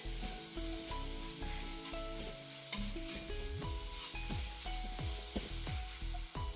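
Chopped tomato frying in a pan for duck curry, a soft continuous sizzle with repeated scraping and stirring strokes of a spoon against the pan, close and quiet, with no talking.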